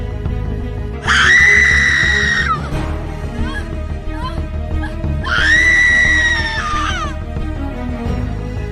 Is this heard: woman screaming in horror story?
yes